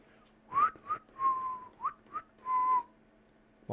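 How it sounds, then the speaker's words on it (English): A person whistles a short, quiet tune of several clear notes with brief pauses between them, heard close and alone. "Why am I whistling?"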